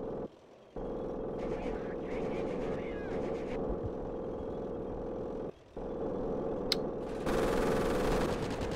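Machine gun fire rattles in the Company of Heroes Blitzkrieg Mod, a near continuous stream of rapid shots with other battle noise layered in and a louder burst toward the end.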